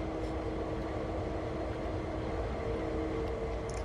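CSX locomotives in Train Sim World 2 give a constant, steady low rumble with a faint tonal hum, heard alone and unbroken for a few seconds.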